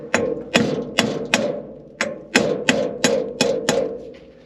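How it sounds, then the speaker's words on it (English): A hammer taps lightly on metal during servicing of a Letourneau Tournapull scraper, about nine sharp, ringing strikes in an uneven rhythm, close and clear with no talk. "Just a little tappy tappy."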